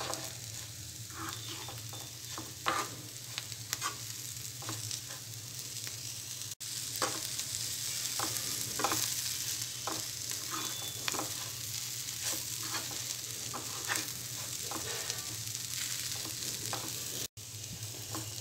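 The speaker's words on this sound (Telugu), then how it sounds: "ఉప్పు కారం వేసిన తర్వాత ఐదు నిమిషాలు సిమ్లో మగ్గనివ్వాలి" Cluster beans seasoned with salt and chili powder fry and sizzle in a pan, a steady close crackle and hiss with occasional stirring scrapes and taps, no talking.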